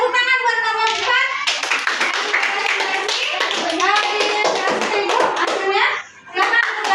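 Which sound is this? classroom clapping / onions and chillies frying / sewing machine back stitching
classroom clapping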